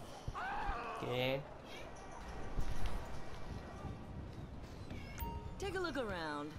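Pet cat meowing close by indoors, a couple of rising and falling meows, one near the start and one near the end, over faint background game audio.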